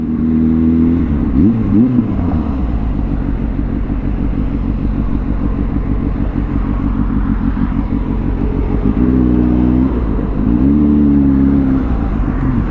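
A 2023 Kawasaki Z H2 motorcycle engine idles and putters steadily up close, with a brief rev early on and another throttle blip near the end; no talking.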